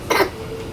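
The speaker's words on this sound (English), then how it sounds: "I can see your son is coughing" A child gives a single short, sharp cough or throat-clear at close range, followed by quiet room tone.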